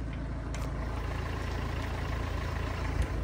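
A Mercedes W204 C-Class car engine idles steadily with a constant low rumble and faint ticking, no voices, the same even drone throughout.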